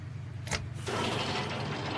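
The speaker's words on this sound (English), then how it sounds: "activate that winch" A truck's rear winch engages in the off-road driving game MudRunner VR, a low steady engine rumble joined by a sudden broad mechanical whir that kicks in and keeps running continuously, fairly loud and close.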